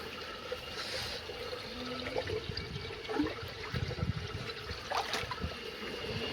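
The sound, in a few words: water being filled into sample bottle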